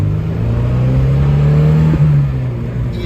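A 1991 Alfa Romeo Spider Veloce driving, its engine droning loud and steady from inside the cabin, pitch rising gradually through acceleration, then a brief dip at a gear change before settling again.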